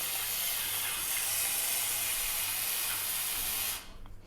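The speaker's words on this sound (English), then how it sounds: "We're going to kind of cook them down a little bit." Onions and garlic cooking down in a pan over low gas heat, a continuous close, even sizzling hiss that cuts off abruptly near the end.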